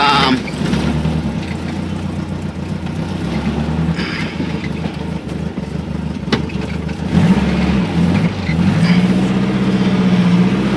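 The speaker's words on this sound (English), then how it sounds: "Let's wait for some of this traffic to get by here." Road traffic rolling past an auto repair shop, a steady loud rumble of car engines going by nearby, with one vehicle accelerating and revving near the end, no talking.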